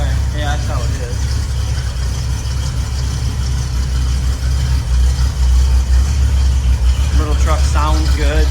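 A 1960 Chevrolet C10 pickup with a 350 engine idles nearby, a steady low rumble running continuously beneath brief bits of conversation.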